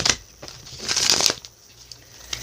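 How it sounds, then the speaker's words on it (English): A deck of tarot cards is shuffled by hand close up, with a few quick papery bursts of riffling and sliding separated by short pauses. "Going to do a couple of shuffles on screen for your benefit."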